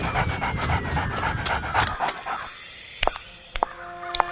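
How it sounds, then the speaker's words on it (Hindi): A stray cartoon dog attacks a man's pants, heard as quick rhythmic panting for two seconds, then a quieter stretch broken by several sharp, brief yelps and whimpers. "तभी अचानक एक आवारा कुत्ता दौड़ता हुआ आया और सीधा आनंद की पैंट में दांत गड़ा दिए।"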